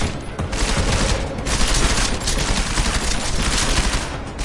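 Sustained gunfire in the Deus Ex video game, a dense, loud barrage of rapid shots with brief dips, continuous throughout and without speech.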